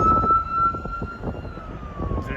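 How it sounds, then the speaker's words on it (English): An ambulance siren sounds on the road outside a shopping center, heard from inside a 1999 Toyota Camry LE, a steady wailing tone over low engine and road rumble. "There's an ambulance coming out of that shopping center that I'm gonna have to get out of the way of."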